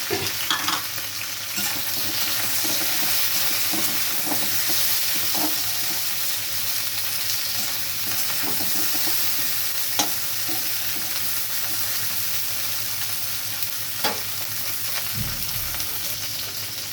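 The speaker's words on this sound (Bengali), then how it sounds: "ভেন্ডিগুলো দিয়ে আমি একটু নাড়াচাড়া করে দিতে ভাজা ভাজা করে নেব।" Okra and onions fry in a pan with a steady loud sizzle, while a spatula scrapes and stirs in scattered strokes and clicks throughout.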